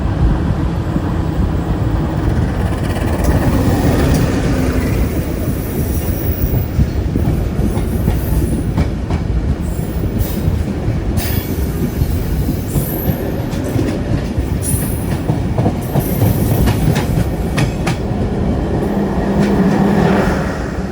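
Inside the Jaka Tingkir economy passenger train running from Jakarta to Yogyakarta, a loud, steady roar of wheels on rail with a rumbling carriage, faint rhythmic clacking and occasional high metallic squeals.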